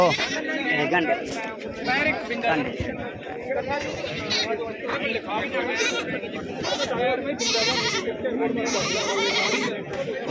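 Goats bleating at a goat show competition in Bhallaiana, with repeated calls amid crowd chatter and a loud, busy fairground din; people talk throughout.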